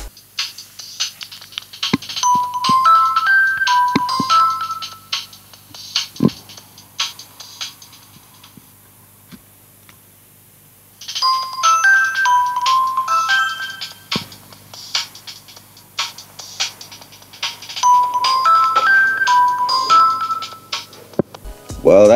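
Several short melodic electronic ringtones from a Nokia Lumia 520 phone play one after another, bright chiming tone patterns separated by brief pauses, loud and close.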